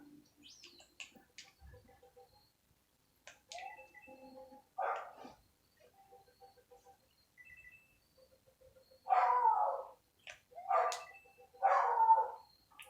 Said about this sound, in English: And there's Oscar barking at somebody for something